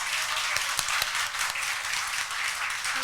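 A church congregation claps during a Sunday worship service, a steady wash of hand claps at moderate distance with no talk over it.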